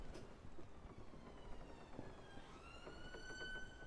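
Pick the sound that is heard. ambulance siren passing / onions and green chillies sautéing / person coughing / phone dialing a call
ambulance siren passing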